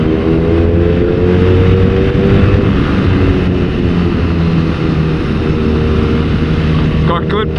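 A BMW R nineT motorcycle engine pulls hard under steady acceleration, a loud continuous drone buffeted by heavy wind rush, as heard from the rider's position on the road.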